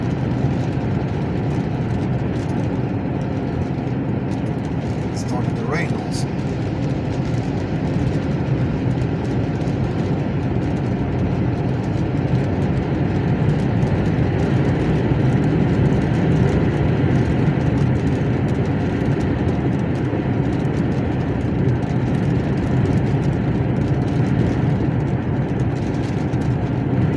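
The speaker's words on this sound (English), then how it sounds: "There comes the train also." A train passing along a high mountain route in Norway, heard as a steady low rumble of rail cars that stays fairly constant and moderately loud throughout, with light rain and road ambience in the background.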